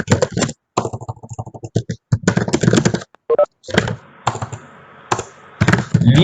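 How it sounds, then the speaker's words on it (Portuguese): Rapid keystrokes on a computer keyboard come in bursts of clicking with brief pauses, close and clear, while someone talks intermittently over the typing. "Estou digitando que eu vou soltar aqui para vocês também."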